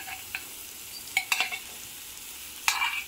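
Lightly boiled prawns seasoned with salt, chilli and turmeric dropping into a frying curry masala, giving a faint sizzle with a few short scraping stirs and soft clatters, no talk.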